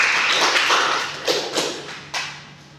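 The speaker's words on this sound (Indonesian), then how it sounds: "Kita beri dulu aplaus untuk teman-teman sekalian" Classroom applause for students who have just performed: many hands clap in a dense, steady patter that tapers off over a few seconds.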